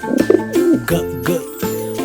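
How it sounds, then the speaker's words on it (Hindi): A pigeon coos in a short series of soft, rounded calls, close and clear, with no other sounds around them. "कबूतर"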